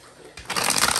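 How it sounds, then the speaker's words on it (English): A tarot card deck being shuffled: a short, soft riffle of cards that starts quietly and swells into a brisk flutter within about a second. "I can't even shuffle today"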